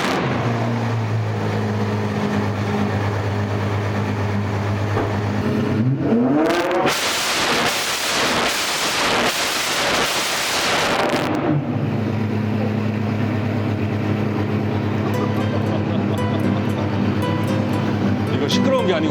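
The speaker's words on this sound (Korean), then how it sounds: "지금 배기음 시연해드리도록 하겠습니다." Apollo IE hypercar revved inside an enclosed space: a steady idle rumble, then a loud, roaring multi-second rev burst with rapid throttle blips, settling back to idle as people talk.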